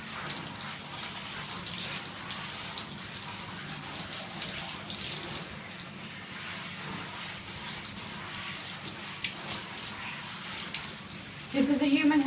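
Warm water runs continuously from a tap to soak human hair extensions, a steady close splashing stream, with a brief louder gush near the end.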